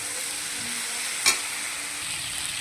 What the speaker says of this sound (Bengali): মাশরুম রান্না হচ্ছে।